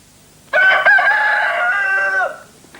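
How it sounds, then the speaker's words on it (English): A cockerel named Corky, kept in a chicken coop in the North Devon village of Stoke, gives a single loud, drawn-out crow with a harmonic rise and fall, close by and clear with no talk. "a cockerel who's too noisy for his neighbours has got a new home"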